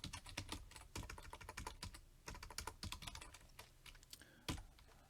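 Fingers type on a computer keyboard in a fast, uneven patter of close, crisp key clicks with brief pauses, and no voices.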